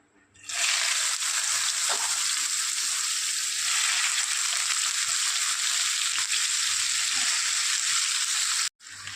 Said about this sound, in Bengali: কালো জিরেটা ভাজা হয়ে গিয়েছে এবার আমি দিয়ে দেবো উচ্ছেটা